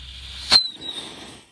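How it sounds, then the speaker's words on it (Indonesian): A turtle-shaped firecracker goes off with a single sharp, close crack, then a faint trailing crackle and fizz. "Selanjutnya kita nyalakan mercon kura-kura, guys."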